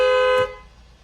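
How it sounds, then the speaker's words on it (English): Horn of a 2021 Cadillac XT5 sounds once in a short, loud, steady honk lasting under half a second, then fades into quiet cabin ambience. "The horn is also very loud on this car."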